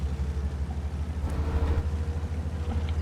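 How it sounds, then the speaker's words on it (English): A deep, steady tank engine rumble from World of Tanks drones throughout, a heavy low growl with slight pulsing and no voices. "Engine sounds seem to be way more profound than they were before."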